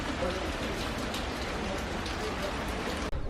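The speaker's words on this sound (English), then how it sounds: "right now it's raining a little bit heavier" Steady rain falls throughout in Sidi Bou Said, Tunisia, a dense even hiss of drops on surfaces that stays constant until cutting off abruptly near the end.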